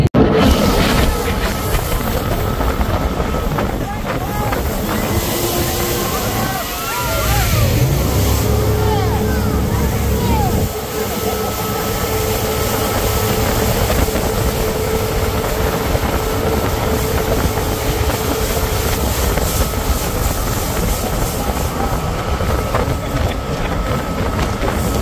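A jetboat roars steadily on the Willamette River in Portland, Oregon, its loud engine and rushing water mixed with wind buffeting throughout, while voices carry over the noise.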